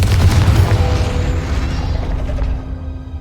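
A Confringo blasting spell from a Harry Potter video game goes off as a loud, deep boom that rumbles and slowly fades away.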